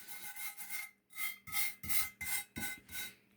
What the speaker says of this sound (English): I'll sand on this, polish it a little bit